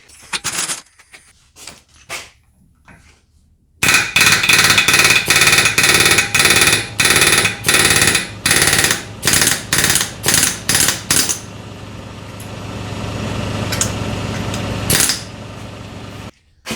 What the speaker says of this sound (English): When in doubt, use a bigger air hammer.